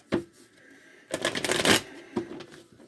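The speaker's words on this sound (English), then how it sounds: "They're telling me to shuffle these." A deck of cards is shuffled up close: a quick riffle burst, then a couple of sharp taps as the cards are squared.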